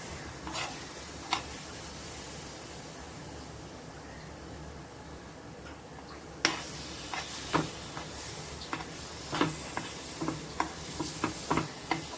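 A thick amla, moringa and honey candy mixture is stirred and sautéed in a pan, with a low steady sizzle and a series of light clicking scrapes of the spoon growing more frequent in the second half, close and unvoiced.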